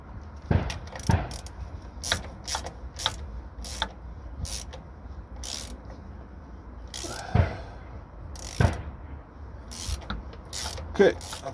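A ratchet tightens gearbox mount bolts on a Matbro 260, with repeated short bursts of close clicking separated by pauses and faint metallic handling.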